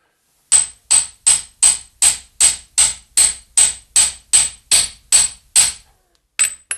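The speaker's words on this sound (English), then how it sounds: "then I can use a hammer." Thirteen evenly spaced hammer blows drive tool steel into a press fit on a homemade rotary vane air compressor, each strike a sharp metallic ring, then a brief pause and two more quick hits.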